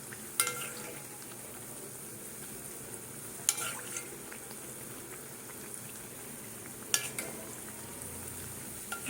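Oil sizzling steadily around a Dhakai paratha frying in a pan, a quiet continuous crackle with a few sharper clinks or stirring knocks, no talking.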